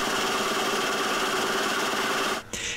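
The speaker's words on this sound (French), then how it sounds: "Après les avoir changées, le moteur marche comme un charme." An electric compressor motor fitted with new brushes runs loud and steady with a buzzing hum, then briefly dips and cuts out before resuming near the end.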